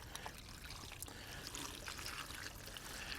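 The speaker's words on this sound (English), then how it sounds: "About 32 ounces of vegetable stock into the foil pan." Vegetable stock pours steadily into a foil pan with a faint, continuous trickling splash.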